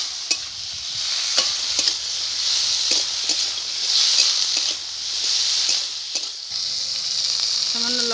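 Garlic cloves hit a hot pan and sizzle loudly and close, a continuous frying hiss broken by occasional stirring clicks and scrapes.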